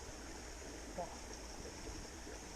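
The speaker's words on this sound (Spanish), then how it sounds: "mira el agua como rompe" Mountain stream in the Sierra de Espadán's Barranco de Almanzor, water rushing and breaking as it falls: a steady, full broadband roar close by, continuous and unbroken throughout.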